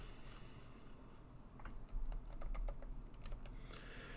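Keystrokes on a computer keyboard while a Python print statement is typed in PyCharm, a quiet run of light, irregular clicks that grows a little busier toward the middle, with no talking.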